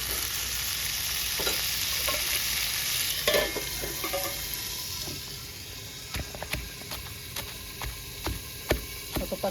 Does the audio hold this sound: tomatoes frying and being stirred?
yes